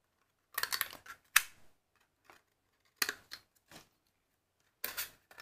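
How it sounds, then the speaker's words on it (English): Scissors snipping little slits about an inch apart into a paper cone for a witch's hat, several sharp close crisp cuts in short bursts separated by quiet pauses, with no voices. "I'm going to take some scissors. I'm going to cut some little slits like this."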